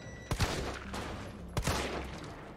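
Two sharp bursts of gunfire from Resident Evil 3 Remake, about a second apart, each a loud crack with a short tail, fired at enemies over a low game backdrop with no talk.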